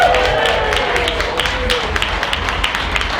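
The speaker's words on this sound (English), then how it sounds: "I think actually we should take this opportunity to give a big round of applause to everyone." Audience at a chairman's reception clapping together in a dense, steady round of applause that holds at an even, fairly loud level throughout.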